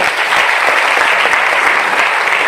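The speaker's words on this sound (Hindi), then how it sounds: "दोस्तों तालियां हो जाए" A burst of audience applause at a network marketing event, dense steady clapping from many hands filling the whole moment with no voices.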